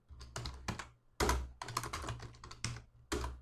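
Computer keyboard keys clatter in quick bursts of typing with short pauses between, close and clear with no talking.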